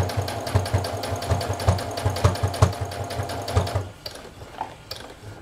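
A sewing machine stitches through layered fabric of bra pads, running in a steady rapid mechanical chatter up close for nearly four seconds before stopping, leaving only faint handling noise.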